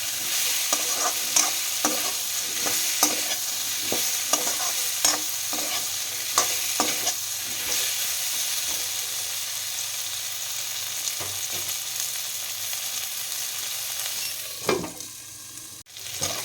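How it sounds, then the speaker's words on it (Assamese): Potato, cauliflower and kohlrabi sizzle in a hot pan while a utensil stirs them in repeated scraping strokes, fairly regular at first, then slowing toward the end. "এইখিনি ভালকৈ লৰাই লৈ আৰু অকণমান দেৰি ভাজি থাকিম"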